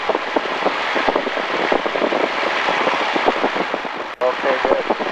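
A Discovery light airplane's engine runs at full power before takeoff, a loud steady droning roar filling the clip with rapid propeller pulsing and a brief dropout near the end, while voices talk over it.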